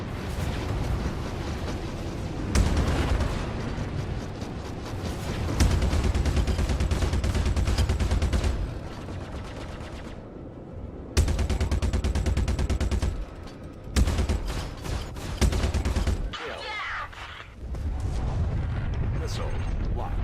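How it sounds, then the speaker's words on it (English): A spaceship in Star Citizen comes under gunfire, with loud sustained bursts of rapid blasts and explosive impacts broken by short pauses and abrupt cutoffs, along with game voice alerts. "Rear shield under fire."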